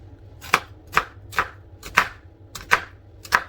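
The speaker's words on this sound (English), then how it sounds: "I'm gonna cut this onion" A knife chops an onion finely on a board, making six sharp, evenly spaced chops about half a second apart, close and distinct over a quiet background.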